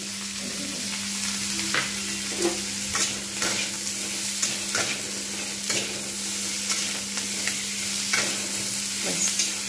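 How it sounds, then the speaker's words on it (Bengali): Bitter gourd fries in a pan with a steady low sizzle, broken by repeated light scrapes and taps of a stirring spoon, close and quiet, with no voices. "এবারে এটাকে আমি একটু আঁচটা কমিয়ে ঢাকনা দিয়ে ভেজে নেব।"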